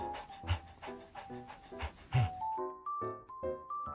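A puppy pants in quick, rhythmic breaths, about two per second, close and fairly soft, while light chiming musical notes play over it.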